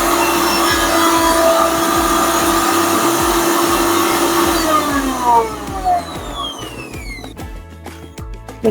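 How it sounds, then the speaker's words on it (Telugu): A mixer grinder whirs loudly and steadily as it grinds green chillies, coriander and ginger for panipuri, then winds down with a falling pitch and a few rattling knocks as it stops. "మిక్సీ పట్టుకున్నా కదా"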